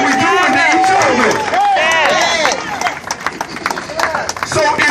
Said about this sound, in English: that needs some applause